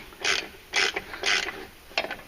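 Four bursts of ratcheting, clicking mechanical noise as a Polaris Ranger 900 clutch is turned by hand during a clutch kit install, each turn a short gritty run of clicks separated by pauses.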